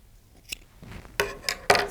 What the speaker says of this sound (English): take your scissors, and you're going to cut it